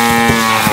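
A cow on a farm in Alsace lets out a single loud, close moo, a sustained deep droning call that fills the short moment with no talking over it.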